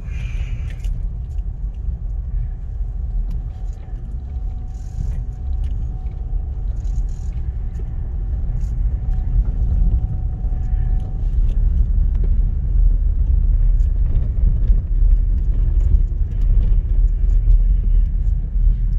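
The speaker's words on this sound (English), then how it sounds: "It's because I'm in the car." Steady low road rumble inside a moving car, with engine and tire noise building slightly louder over about twenty seconds and a faint rattle now and then, no clear talk.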